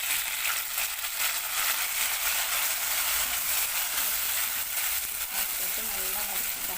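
Tomatoes sautéing in a pan for a dried anchovy curry give off a steady, close, dense sizzle that holds evenly throughout, with a faint voice murmuring underneath near the end.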